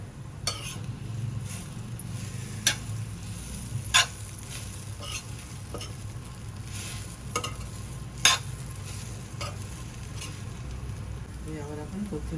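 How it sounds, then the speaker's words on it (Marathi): Zunka with capsicum being stir-fried in a pan, a steady low sizzle with scraping spatula strokes and occasional clinks of utensil on metal, close up; a voice talks faintly in the background. "पुन्हा एकदा झुणका आपण परतून घेऊया."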